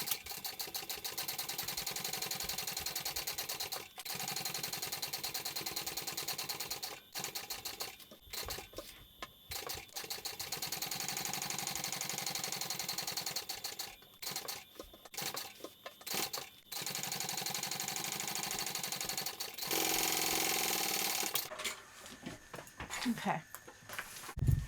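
A domestic sewing machine top-stitches a Brentwood backpack in long continuous mechanical runs, broken by short stops to adjust the fabric, and ends with a burst of handling clatter.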